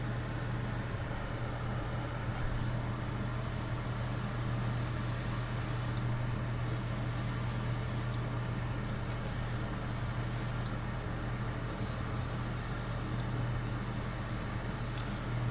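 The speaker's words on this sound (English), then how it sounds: "So for this, I'm gonna mainly be spraying heavy on the bottom." A spray gun hisses steadily, laying paint onto the bottom of a fishing crankbait lure; the loud, continuous airy spray runs almost unbroken for fifteen seconds, with a few brief dips where the trigger eases, under a constant low hum.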